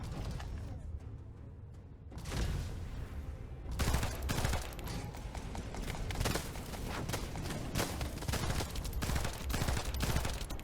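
Rapid gunfire aimed at a boss's weak point in The First Descendant, dense bursts of shooting and impacts layered over a busy game soundtrack, nearly continuous after a brief quieter opening.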